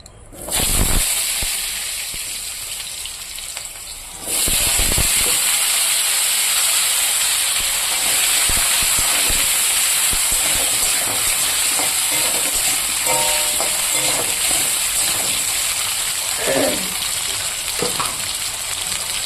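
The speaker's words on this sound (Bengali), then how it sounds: "এবার আমি আলুটাকে ভেজে নেব আগে" Potatoes fry in hot oil seasoned with dried red chillies, bay leaf and cumin, a steady loud hiss and sizzle that swells sharply after a few seconds, with occasional clinks of a stirring utensil against the pan.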